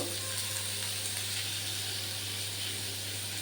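Spices fry in a pan with a continuous, fairly loud sizzle and hiss, stirred now and then, and nobody talks.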